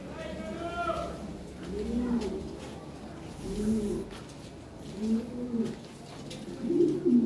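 Lahore pigeons coo close by in a series of five low, rolling calls spaced about a second apart, with a faint background murmur.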